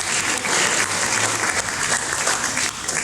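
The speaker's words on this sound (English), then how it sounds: "Let's give them a round of applause." Audience applause at a school debate between Ribe Boys High School and Allidina Visram High School, steady sustained clapping from a full room for about three seconds with no pause.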